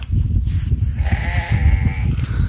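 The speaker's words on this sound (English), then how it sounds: "Hello, goat." A goat on a farm in Mokpo, South Korea, lets out a drawn-out, wavering bleat from close by over low rumbling background noise.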